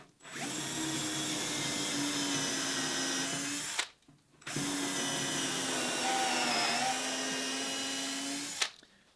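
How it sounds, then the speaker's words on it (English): A power drill bores screw holes along the sheer of a wooden wherry boat, two long steady whining runs of about four seconds each, separated by a brief pause, close and loud. "I'm just going to start by running down the boat with just my first drill bit here, the core diameter, and just drill all of my holes"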